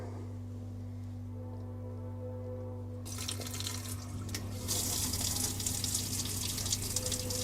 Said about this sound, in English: Okay, so I'm going to turn the water on.